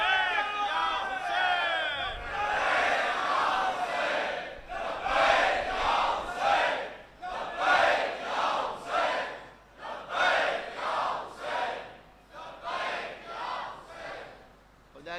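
A large mourning congregation at a Muharram majlis chants in loud rhythmic unison, several repeated shouted phrases with brief pauses, following a speaker's opening call.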